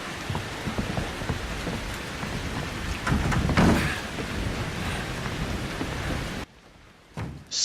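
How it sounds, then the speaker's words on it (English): Heavy blood-rain downpour from Outlast 2 on PC, a dense steady roar of rain with a low rumble of thunder swelling mid-way, then abruptly cutting to near silence before the rain briefly returns. "Whether you were running in a rainstorm made of blood"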